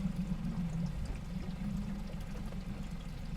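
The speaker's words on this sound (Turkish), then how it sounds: "Motorum su atıyor mu bir kontrol ediyorum." An outboard boat motor spitting its cooling water jet, a steady close splashing pour over low engine idle rumble, continuous throughout with no talk.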